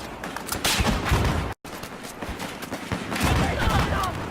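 Battlefield 4 gunfire from an ACE 21 CQB rifle crackles in dense, loud bursts with distant battle noise behind them. A brief dropout breaks the sound partway through.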